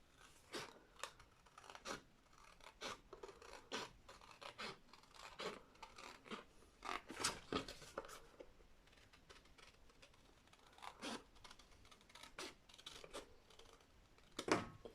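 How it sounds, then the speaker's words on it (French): Scissors cut paper to make a scrapbook-style Polaroid pouch, giving close, quiet snips and rasping slices in irregular bursts, with soft handling rustles between cuts. "je vais prendre mes ciseaux et je vais venir couper cette partie tout l'autre côté là"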